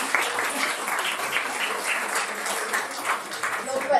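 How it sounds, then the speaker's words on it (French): An audience at a history conference applauds the speaker with sustained clapping of moderate loudness, a voice briefly heard over it. "Je vous demande de l'applaudir."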